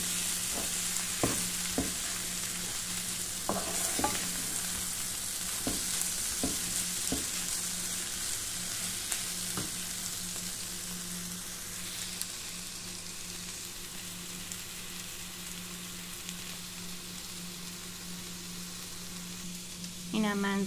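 Sausages frying with onion in a pan, a steady close sizzle with occasional sharp clicks and stirring scrapes, no talk.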